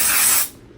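A short, loud burst of dry shampoo aerosol spray hisses for under half a second, then cuts off into quiet.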